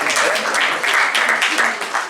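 An audience in a Spanish philosophy debate hall in León applauds an 11-year-old speaker, a steady wash of clapping held at even loudness for a couple of seconds, with a voice faintly audible underneath.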